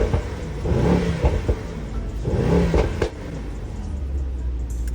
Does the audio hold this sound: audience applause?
no